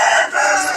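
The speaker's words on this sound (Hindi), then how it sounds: "मुर्गा बार बार बोल पड़ता" A two-year-old rooster crows once, loud and close, a short bright call that breaks off abruptly.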